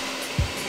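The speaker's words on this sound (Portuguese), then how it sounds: "Agora é só ligar o secador." A hair dryer switched on to heat something runs as a steady, faint whirring hiss, with a brief low thump partway through and no talking.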